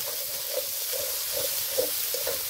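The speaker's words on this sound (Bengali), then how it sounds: "আদা ও রসুন দিয়ে কিছুক্ষণ নেড়ে নেব" Ginger and garlic paste frying in a pan for a Bengali ritha fish curry, a steady close sizzle with soft scraping strokes of stirring every half second or so, no voices.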